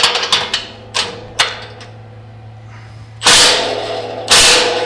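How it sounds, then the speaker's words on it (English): Metal tool clatter and ratcheting while tightening the bottom bolt on a Can-Am Defender plow mount, with sharp close clicks and knocks in the first seconds, then two louder bursts of rattling, grinding noise. "So I'm gonna tighten this bottom bolt up."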